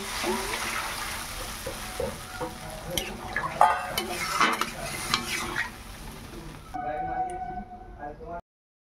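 Water poured into a pan of sautéed potatoes and pointed gourd for a rohu fish curry sets off loud hissing, bubbling and sizzling with stirring scrapes, then fades to a softer simmer as a voice speaks.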